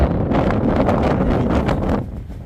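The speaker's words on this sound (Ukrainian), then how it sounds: "дуже сильний вітер" Strong wind buffets the microphone outdoors beside a house, a loud rumbling roar with gusty bursts that eases slightly near the end.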